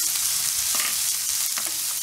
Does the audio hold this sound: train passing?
no